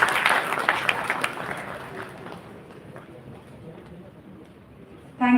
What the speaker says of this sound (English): Let's give him a huge round of applause, everyone.